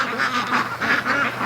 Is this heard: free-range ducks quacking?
yes